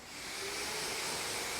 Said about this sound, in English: next you're gonna get your pressure washer